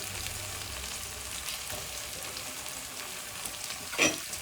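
Potato and chilli sizzle steadily in a pan for home-made khichdi, a continuous quiet frying hiss with a brief louder clatter of stirring near the end, no voices.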